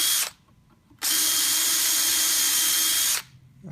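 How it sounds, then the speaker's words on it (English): Power drill boring a hole in a wooden door being hung, a brief whir, a pause, then a loud sustained high-pitched whine for about two seconds before stopping, close up with no talk. "And I'm just going to drill the hole"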